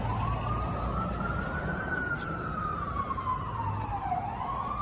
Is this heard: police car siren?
yes